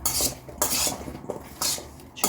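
Chopped apples for a date salad are tossed and mixed in a dish, producing quick bursts of scraping and clinking utensil contact in an uneven rhythm, close and fairly loud.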